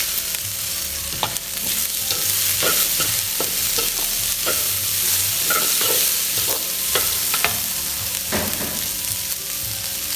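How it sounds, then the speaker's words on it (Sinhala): Green beans stirred and frying in a pan for a Sri Lankan bean mallum, a steady close sizzle broken by repeated scraping and clacking stir strokes, no talking. "මේක ගොඩාක් ෆ්‍රයිස් කරගන්න නැතුව අපි මේ බොංචි ටිකත් මේකට එකතු කරගමු."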